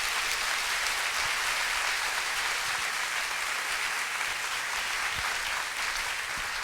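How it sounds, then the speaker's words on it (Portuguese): Congregation applauding during an evening church service, a dense, steady wash of many hands clapping that holds evenly from start to finish with no voices on top. "Vamos aplaudir a palavra do Senhor."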